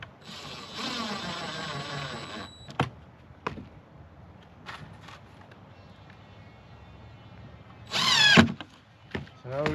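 A power drill drives screws into the kick panel of an RTA bathroom vanity cabinet, with a longer whirring burst early on and another loud burst near the end. Scattered knocks and handling noises fall between them, and there is no clear speech.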